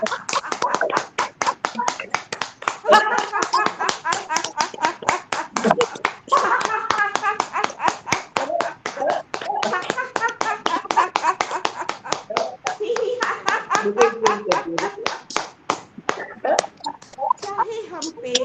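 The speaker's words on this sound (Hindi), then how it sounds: "ताली बजाते हुए दोनों हाथों को पूरा खोलेंगे, ताली बजाएंगे" Rhythmic hand clapping throughout a yoga exercise, fast steady claps repeated dozens of times, loud and close, with a voice speaking over them.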